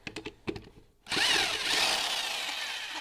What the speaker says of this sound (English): This is a big old electric impact wrench.